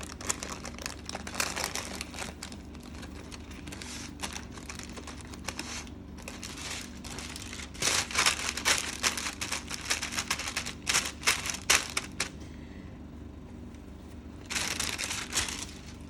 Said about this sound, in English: The parchment paper actually really helps a lot in this.